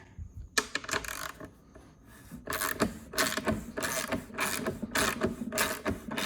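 A 10mm wrench ratchets a bolt off a Honda GCV160 lawn mower, producing rapid metallic clicking in repeated bursts, close and distinct, after a short pause near the start.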